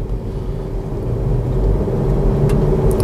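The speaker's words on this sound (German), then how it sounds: "Jetzt wieder E-Betrieb, Verbrennungsmotor dazu." Cabin rumble of a Kia Niro hybrid as the combustion engine joins electric drive, a steady low drone with a faint hum, heard from inside the moving car.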